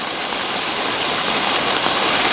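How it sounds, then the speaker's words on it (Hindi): Fast-flowing floodwater after heavy rain, drain water surging through a residential area, a loud continuous rushing roar with no pauses, close by and alone. "इतना पानी का बहाव है तेज।"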